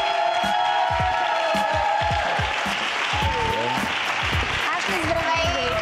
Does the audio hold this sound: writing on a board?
no